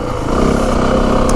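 Yamaha WR 450F dirt bike with an unrestricted, uncorked exhaust and the spark arrestor removed, its engine running loud and steady, close by, with a continuous throaty drone and no pauses.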